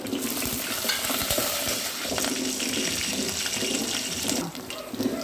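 Green chillies fry with tempering seeds, cumin and curry leaves in hot oil for a tomato chutney, a steady, close, loud watery sizzle running the whole time with no talking.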